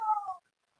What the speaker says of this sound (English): They get their minutes up when they hear the sound of a kitty.